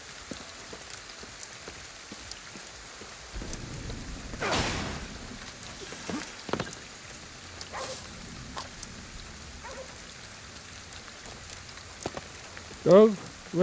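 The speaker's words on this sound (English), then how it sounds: "Raining a lot today." Rain pattering steadily in Ghostwire: Tokyo, with a few sharp effect sounds and bursts cutting through the downpour.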